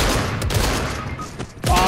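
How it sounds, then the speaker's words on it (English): Loud, rapid bursts of gunfire in the video game Fortnite, aimed at a wall, packed close together with brief gaps before another volley at the end. "He's shooting at the wall here."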